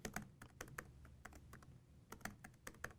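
Quiet, rapid clicking of keys on a computer keyboard, irregular bursts of typing close by with no talking.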